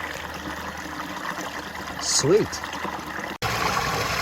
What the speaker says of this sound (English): Sorry about the noise, folks. I'm gonna try and talk a little louder because I'm standing right over this waterfall right here.